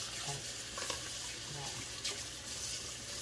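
Hot tap water runs steadily into a kitchen sink as dishes are washed, a continuous splashing hiss with occasional clinks and small bumps.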